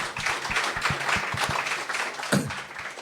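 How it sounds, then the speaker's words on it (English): Scattered applause from a panel audience at a quantum Bitcoin event, with sharp individual claps standing out over a soft wash of clapping before it thins out. "So, big round of applause."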